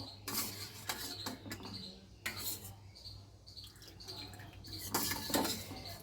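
Amla are strained out of sugar syrup with metal kitchen utensils while making amla candy, giving scattered clinks, taps and scrapes of steel on a pan in irregular bursts.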